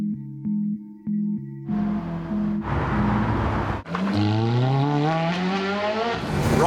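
A Ferrari engine starts with a steady, pulsing idle-like drone, then roars louder and climbs through rising revs and gear changes, accelerating hard and close with a rough, throaty snarl.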